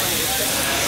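Beef and marinade sizzling on a Korean BBQ grill, a dense loud hiss filling the whole moment with no pause.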